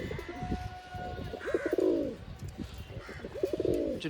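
Kalshira pigeons in a cage coo repeatedly in soft, rolling phrases, close by, with faint chirps and a little background noise between calls.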